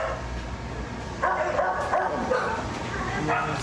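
Several dogs barking and yipping in a home setting, short repeated barks at middle distance, with people talking over them.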